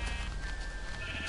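Sheep bleat repeatedly in a Minecraft-style video game, a wavering nasal call that carries steadily through the whole moment with no talk over it.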